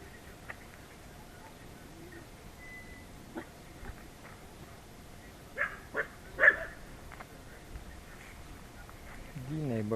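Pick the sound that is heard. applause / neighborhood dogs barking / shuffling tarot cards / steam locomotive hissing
neighborhood dogs barking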